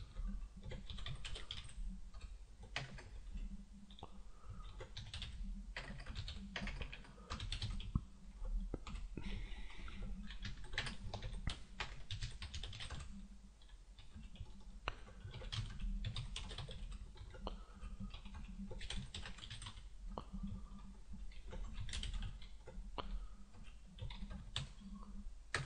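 Steady typing on a computer keyboard while writing Small Basic code, with dense, quick key clicks and occasional louder taps, close and continuous, with no talking.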